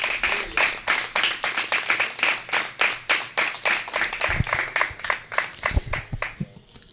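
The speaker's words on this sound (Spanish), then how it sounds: "denle un aplauso a Yahweh" A congregation claps in praise at a religious service, a sustained rhythmic round of many hands beating in unison at a steady tempo, fairly loud and close, tapering off at the end.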